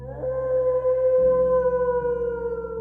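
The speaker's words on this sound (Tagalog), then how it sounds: "Natigilan ako nang marinig ang nakakakilabot na alulong ng aso." A single drawn-out dog howl, eerie and wavering, sustained at a steady pitch with clear overtones, loud and close with no voices over it.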